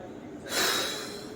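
A single deep, forceful breath is drawn in sharply then slowly released during a full-body weight loss exercise, close and clear with no talking.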